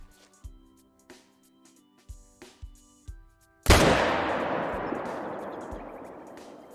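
A hunting rifle fires at a whitetail buck in the Call of the Wild game: several soft knocks and clicks come first, then one loud, sharp shot that rings out and fades away slowly.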